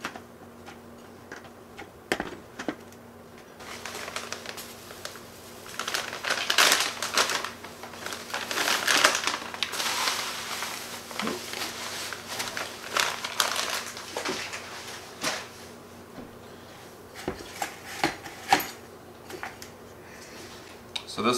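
Scooping Pro Mix potting soil and mushroom compost while mixing a planting blend for a giant sequoia, giving gritty crunching and rustling scrapes in repeated bursts, with talking throughout.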